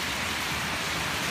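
Steady, dense rainfall hissing close and loud, a continuous wash with no pauses or voices.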